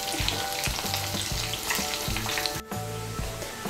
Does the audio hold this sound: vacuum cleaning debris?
no